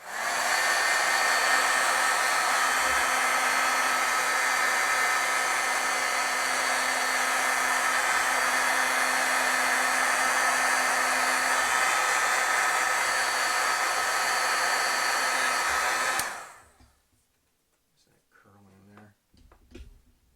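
A crafting heat tool roars steadily with loud hot-air blowing for about sixteen seconds, then cuts off abruptly, leaving near silence with faint small handling sounds.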